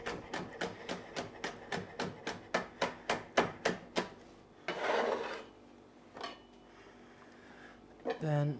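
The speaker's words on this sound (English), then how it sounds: "I'm just going to cut that into strips" A knife slices a pointy pepper into strips on a board, about fifteen quick, evenly spaced chops, followed by a few scraping sounds and a short thud near the end.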